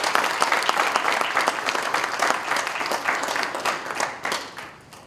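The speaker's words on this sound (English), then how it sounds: "A big round of applause for it." A conference audience breaks into sustained applause, dense overlapping claps from a large crowd that swell and then taper off toward the end, with little talk.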